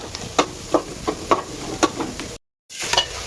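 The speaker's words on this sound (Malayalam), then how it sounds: "ഇഞ്ചി വെളുത്തുള്ളിയും കൂടെയാണ് നമ്മൾ ഇതിനകത്തോട്ട് മിക്സ് ചെയ്യും എന്നിട്ട് നല്ല രീതിയിൽ അവിടെ ഇളക്കി കൊടുക്കുക" Onions being stirred with ginger and garlic in a hot pan: a steady sizzle with regular scraping strokes of a spoon, about five in a row, a brief silent gap, then more stirring.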